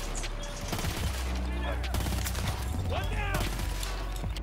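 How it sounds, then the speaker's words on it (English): Burst-fire gunshots in Battlefield 2042, rapid short volleys of shots over continuous game ambience and music, with a voice talking over parts of it. "Let's give burst fire a shot."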